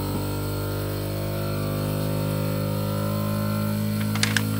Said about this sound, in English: The circuit board has started the compressor.